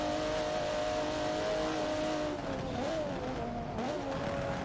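An Alfa Romeo and a BMW touring race car in a racing video game at Suzuka, engines droning loudly and continuously with pitch wavering as they rev through gears, with faint voices underneath.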